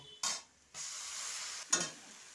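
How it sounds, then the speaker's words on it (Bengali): Ground spice paste hits onions already fried reddish in a hot pan, giving a brief wet sizzle and stirring scrape, then a steady soft frying hiss, and a second sharp stir-sizzle near the end, with no talking. "এখন আমি এই যে বেটে রাখা মশলাটা দিয়ে দেব"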